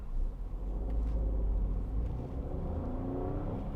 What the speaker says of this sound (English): Just a nice buzzy sound from the Citroen engine.